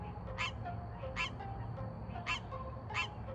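Repeated nasal honking calls like a duck's, four loud bursts at a steady pace over a continuous low background hum.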